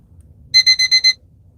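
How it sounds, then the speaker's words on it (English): An electronic alarm sounds indoors: five rapid, evenly spaced high-pitched beeps in a single short burst, loud and close, with no voices around them. "Alarm is working."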